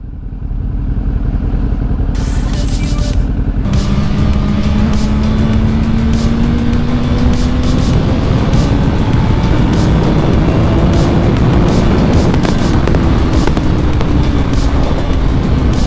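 A 2006 Honda CBR1000RR motorcycle at riding speed, its engine droning loud and close under heavy wind rush, pitch rising and falling as it accelerates and shifts, with no talking.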